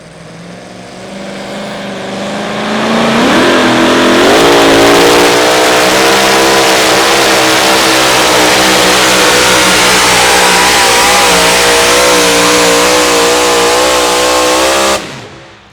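A 2WD outlaw pulling truck at a Friday night pull in Wisner, Nebraska revs hard and holds a loud, sustained engine roar for most of the run, with the pitch climbing early before cutting off abruptly at the end.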